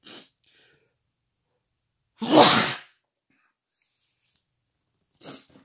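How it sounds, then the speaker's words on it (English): A single loud, close sneeze bursts out mid-clip during a late-night drawing session, framed by a short sniff or breath at the start and another brief breathy sound near the end, with near silence between. "about ready to sneeze. It's coming."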